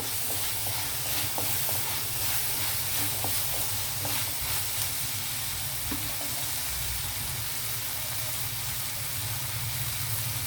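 Peas and spiced curry base cooking in a pan, giving a steady, broadband hiss of steam and sizzle that runs unbroken with faint occasional pops and stirring clicks, close and even, with no talk over it.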